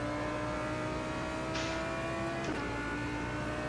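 A GT3 race car in rFactor 2 sits bouncing off its rev limiter, a steady high-pitched engine drone held throughout with a brief burst of noise and a slight pitch dip midway, loud and without talk.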